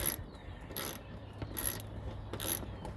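A screw is driven into plastic during HID bulb replacement on a 2014 Kia Cadenza Limited. Four short, crisp ratcheting bursts come at a steady pace, quiet and close, with no talking.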